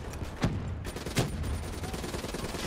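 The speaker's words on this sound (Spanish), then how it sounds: "intenta disparar a los de arriba" Gunfire in the video game Call of Duty: Black Ops 3, with two sharp shots standing out over a continuous rumble of battle noise, fairly close and loud.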